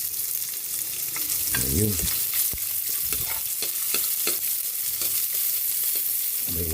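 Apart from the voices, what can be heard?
garlic and onion sautéing in a pan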